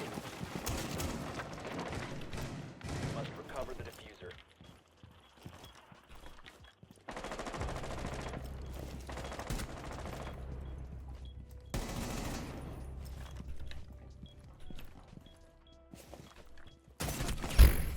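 Gunfire in the video game Rainbow Six Siege on the Outback map, loud bursts of shots in several separate volleys across the clip with quieter gaps between, ending in a sharp final blast.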